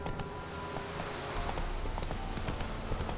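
Horse hooves clip-clopping in a steady trotting rhythm as a rider travels through The Witcher 3, close and fairly loud over continuous outdoor game ambience, with no talking.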